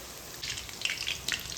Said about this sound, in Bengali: এখন হালকা আঁচে এগুলোকে ভেজে নেব লাল লাল করে।